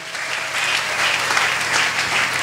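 A church congregation applauds together, a dense, steady wash of clapping that fills the room and holds at full strength throughout.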